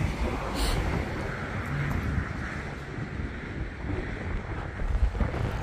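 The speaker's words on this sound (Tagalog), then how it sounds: "mahangin" Strong wind buffets the microphone in a steady roar, with open-water wash underneath and no talking.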